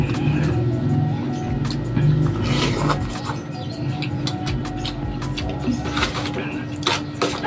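Roadside traffic rumbles steadily beside a busy street, with passing motorcycles and cars making a continuous low engine drone and occasional louder swells, while a person talks over it.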